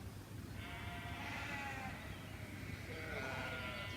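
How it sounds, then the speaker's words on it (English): Sheep bleat in the background in two drawn-out, wavering calls, fairly faint behind a quiet indoor setting during a yoga class. "And with the sheep in the background, just embrace it,"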